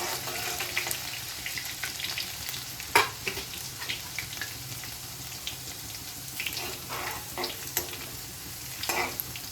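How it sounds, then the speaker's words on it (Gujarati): Chili and ginger paste fries in a pan while being stirred, giving a soft, continuous sizzle with occasional spatula scrapes and taps, fairly quiet and close. "સારી રીતે મિક્સ કરી લઈશું."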